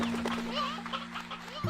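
Roosters cluck in Slime Rancher 2, a short burst of fowl calls over a steady electronic hum from the game, fairly quiet and without speech.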